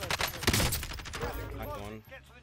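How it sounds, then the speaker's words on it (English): Sniper shots ring out in a shooter video game, a few sharp cracks in quick succession followed by fading echoes, fairly close, with a voice faintly present. "We're getting sniped at"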